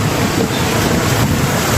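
Rushing floodwater in Marikina City at a high water level, a steady broadband roar with wind noise across the microphone, continuous and loud with no talk.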